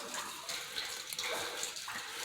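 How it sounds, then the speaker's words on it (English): Water runs and trickles steadily down inside a missile site tunnel, a faint, hissing, splashing flow heard from a distance with no voices. "And you can hear the water down there and everything."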